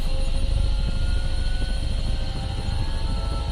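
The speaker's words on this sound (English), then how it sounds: "Perrito Copter 325, winds calm, helipad 2, clear for takeoff." Helicopter taking off in the video game Minecraft, a steady low rotor rumble with a sustained engine whine over it, continuous and fairly loud with no voices.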